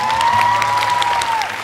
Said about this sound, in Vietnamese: Cho Carrick thêm một tràng pháo tay được không ạ?